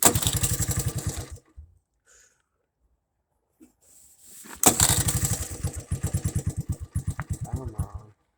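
A small engine cold-starting, turned by a starter: a burst of rapid cranking chugs, a pause of near silence, then another cranking spell that catches into an uneven, sputtering idle, close up.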